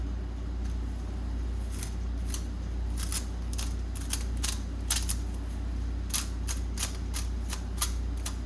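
Header armor heat wrap on S550 Mustang long tube headers is cut with repeated sharp snips, irregular and close, over a steady low hum of background noise.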